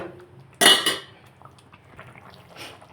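A lid set down on a cooking pan of gongura and meal maker curry, giving one sharp metallic clack followed by a brief rattle, then a quiet simmer beneath.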